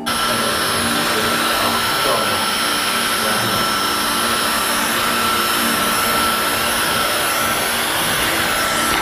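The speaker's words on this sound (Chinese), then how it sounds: "我现在来完成吹干。" A hair dryer blows steadily on hair being dried after cutting and dyeing, a constant loud whirring rush that runs without pause throughout.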